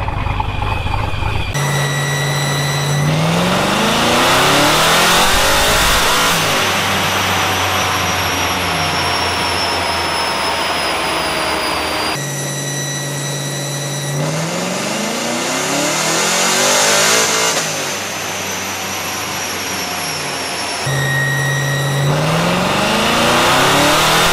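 A procharged C7 Corvette engine revs hard through repeated loud pulls, the supercharger whine climbing with each run before dropping back and building again, up close and without any speech.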